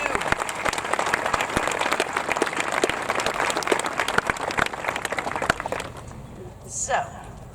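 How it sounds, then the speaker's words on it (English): A graduation ceremony crowd applauds high school staff with loud, dense, sustained clapping that fades out near the end, followed by a brief voice. "So, Lake Wales High School staff, another round of applause for you."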